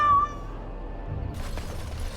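Brief cat meow from a Dragon Age party-banter scene, a short rising vocal cry at the start followed by quieter game ambience and a burst of broadband noise.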